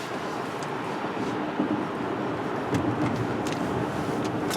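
A 1998 Lexus LS 400 accelerating hard, a loud steady roar of engine and road noise inside the car, with brief faint chirps and clicks over the top.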